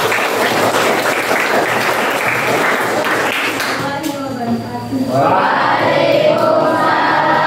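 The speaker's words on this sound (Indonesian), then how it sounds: "Oke, tepuk tangan buat Elis." Classroom applause for a student, a burst of dense clapping from a group that fades around the middle, followed by a teacher speaking.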